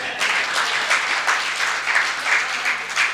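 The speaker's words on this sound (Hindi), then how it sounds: "ताली बढ़िया वाली सही टाइमिंग पे बजाया करो" An audience claps after a Hindi comic poem at a live recital, the applause loud and close and rising in rhythmic waves, with no talking over it for about three seconds.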